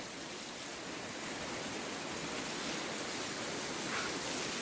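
Steady rushing, splashing water pours continuously for several seconds without pause as plants are watered at a dacha, fairly close, with no voices.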